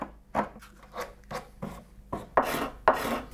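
Repeated rasping strokes of a blade and sandpaper scraping down the edge of a wooden chicotén, a stringed psaltery being hand-built, close up and steady, about seven rough passes with brief pauses between.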